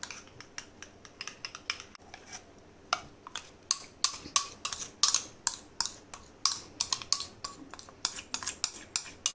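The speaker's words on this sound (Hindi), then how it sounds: "अब इसको मिक्स कर लेते हैं और इसको चिकन में डाल देते हैं मैरिनेट करने के लिए।" Spoon clinking and scraping against a metal bowl while a spice marinade is mixed into chicken, quick irregular taps growing busier and louder, alone without talk.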